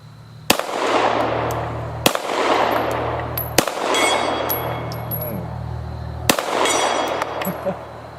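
A CZ 75 Compact 9mm pistol fires four sharp, loud shots spaced a second or two apart outdoors, each followed by a ringing metallic ping from steel disc targets, with faint voices in between.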